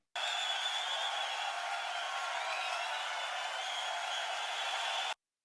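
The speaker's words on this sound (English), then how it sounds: "I added this crowd, Atmo crowd." An atmospheric crowd sample layered into a trance track, a steady airy roar of distant massed voices held at an even level for about five seconds, then cut off abruptly.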